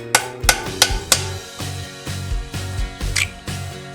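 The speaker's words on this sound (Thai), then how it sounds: "หลังจากนั้นใช้ค้อนตอกนะครับ" A hammer taps a bolt to drive a star nut down into a carbon bicycle fork steerer, giving eight sharp metallic knocks, four quick ones then four more spaced out, close and loud with no talk.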